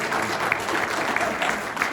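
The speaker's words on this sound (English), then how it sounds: "Let's applaud ourselves." An audience at a fall coffeehouse concert applauding, steady dense clapping from a crowd at moderate distance throughout, without talk over it.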